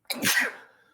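One sharp human sneeze, a quick intake then a loud burst of breath that fades within a second, close to the microphone.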